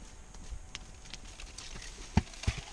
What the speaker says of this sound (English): She's a mountain horse.